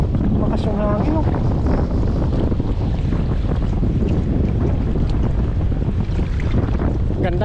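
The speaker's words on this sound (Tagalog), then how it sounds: "Makas yung hangin oh" Strong wind roars and buffets steadily throughout, with rumbling gusts battering the microphone over an open-water setting.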